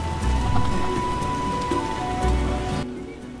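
A steady downpour in The Witcher drums on surfaces, dense and close with low rumbles swelling twice, then the rain thins and quiets abruptly near the end; no voices.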